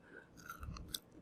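Close, quiet bites into crispy oven-cooked chicken fingers coated with canna butter, a few brittle crunches and chewing sounds over a soft room hum.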